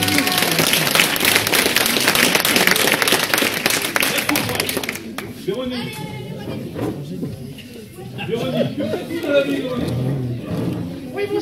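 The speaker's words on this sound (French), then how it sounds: "Véronique, on applaudit bien fort" Audience at a 40th birthday celebration claps loudly and densely for about five seconds, the applause dense and close, then fades as people begin talking over background chatter.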